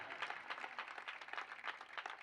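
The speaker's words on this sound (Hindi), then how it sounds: "ताली बजाओ तो अच्छे से बजाओ" An audience claps hands at a religious discourse in a steady, dense patter that holds for a couple of seconds, fairly faint and without distinct individual claps.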